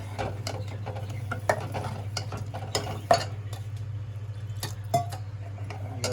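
Green-paste masala being stirred and fried in a pan for bangda fish curry: a steady low hum underneath with intermittent spoon scrapes and clinks against the pan, fairly close and moderate in level, with no talk.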